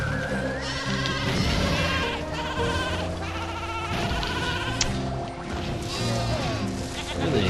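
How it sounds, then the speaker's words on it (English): Sheep bleat in the Skylanders Giants video game amid busy game music and clattering effects, with repeated wavering cries mixed in and a player talking at times. "So this guy is our problem sheep."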